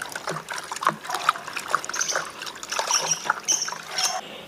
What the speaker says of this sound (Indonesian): kita aduk sampai benar-benar merata.